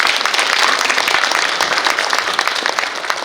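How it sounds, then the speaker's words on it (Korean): Audience at a new-year town hall meeting with a city mayor and council members, clapping loudly and steadily for the whole stretch, a dense close applause with no talk. "의원님들께 큰 박수 부탁드립니다."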